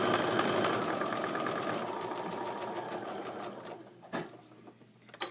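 Sewing machine stitching quilt pieces along a drawn line for half-square triangles, a steady close rapid mechanical whir that runs continuously, then slows and stops with a few faint knocks near the end.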